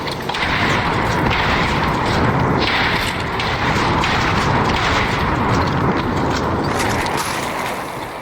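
Repeated shotgun blasts in a multiplayer video game, loud and dense, with booming, mechanical gameplay noise running continuously throughout.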